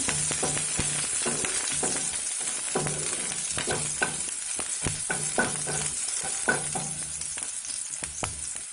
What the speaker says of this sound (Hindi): बस कुछ सेकंड अदरक और मिर्च को भून लेते हैं हम